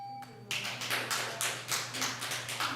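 Audience applause at an Albany city council meeting, a faint scattering of claps that swells into steady clapping from a small crowd in a room with a low hum.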